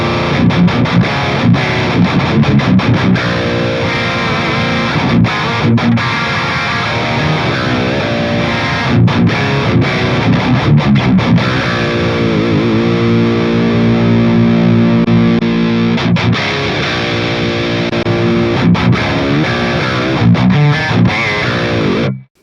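A heavily distorted metal guitar plays through a Mooer GE200 amp modeler's custom cabinet simulation, chugging palm-muted riffs with sharp stops and sustained chords, loud and continuous for over twenty seconds before cutting off abruptly, with no talking.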